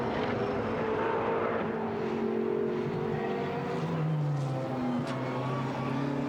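Ferrari 458 GT race car engines droning and shifting pitch on the Algarve circuit during a GT Sports Club race, a steady loud roar of passing cars throughout with no voices.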